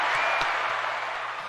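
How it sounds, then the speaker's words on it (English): A steady wash of clapping from a crowd, dense and continuous for the whole moment, with no voices standing out above it. "Round of applause."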